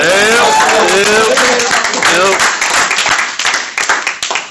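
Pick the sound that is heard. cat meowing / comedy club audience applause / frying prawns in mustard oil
comedy club audience applause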